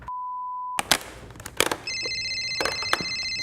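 A telephone rings in a kitchen, with a steady tone, then a burst of clattering, then a bright repeated ring that holds loud and close to the end.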